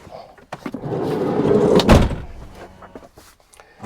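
The door of a VW California SE camper van is slid and shut, a rising rolling rumble ending in a loud close thud near the middle, followed by a few small clicks and knocks close by.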